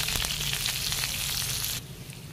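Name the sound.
onion frying in oil with dried chillies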